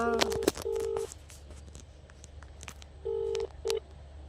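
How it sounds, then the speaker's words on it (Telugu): Short electronic beeps of phone keypad dialing, a few quick tones, a pause, then a couple more, with faint room noise behind. "కాల్ చేస్తున్నా, ఇప్పుడు ఏం మాట్లాడతారో చూడాలి"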